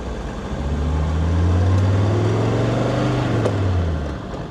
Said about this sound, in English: give you a sound of the engine at slightly higher revs